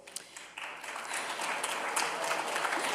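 Audience applause at a Jewish Federation annual meeting, a dense wash of clapping that swells and stays steady throughout, fairly close and without any talk.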